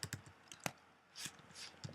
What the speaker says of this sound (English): this is where you can type in